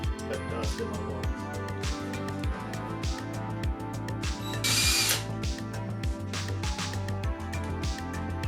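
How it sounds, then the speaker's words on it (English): A power drill whirring and chattering in rapid pulses, close by and continuous, drilling holes through silicone mask mold shells, with a brief harsher burst partway through. "I'm going to take a drill and drill a couple holes through"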